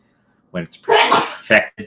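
A single loud, close sneeze bursts out amid a person talking, flanked by brief speech on either side.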